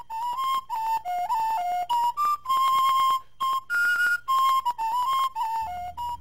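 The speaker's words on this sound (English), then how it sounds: "So we decided to use lighter instruments, like the tin whistle" Tin whistle playing a lively, bouncy folk-style tune in a cartoon retelling of the Finn McCoul legend, clear breathy notes in short phrases with brief gaps, close and prominent, with a soft low hum entering near the end.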